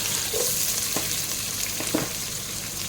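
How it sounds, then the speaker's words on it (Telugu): Chopped onions frying in hot oil in a home kitchen pan, a steady dense sizzle with a few soft stirring scrapes, close and continuous with no voices. "ఇప్పుడు ఆనియన్ వేస్తున్నాను కట్ చేసి పెట్టుకున్నాను"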